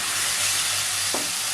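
Spices and onion being stir-fried for a shing fish curry, a steady loud sizzle with a brief stirring scrape near the end, no talking.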